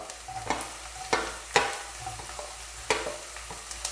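Green chilies tossed into ginger and garlic frying in oil for a curry lemon pickle, with a steady sizzle and several sharp spatula knocks against the pan at irregular intervals, close and clear with no talking.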